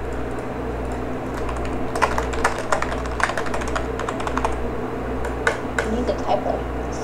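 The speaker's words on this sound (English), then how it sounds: "You need to type like so loud. That's the one with a mechanical keyboard." Loud, rapid typing on a mechanical computer keyboard during a Geometry Dash session, with sharp irregular clicks in bursts over a steady low hum, close to the microphone.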